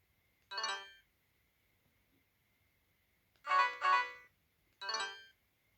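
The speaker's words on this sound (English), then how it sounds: "So let's try voice call ringtones." A voice call ringtone plays from a 2007 Samsung SGH-A411 mobile phone as three short, bright electronic chime bursts separated by silence, clear and close.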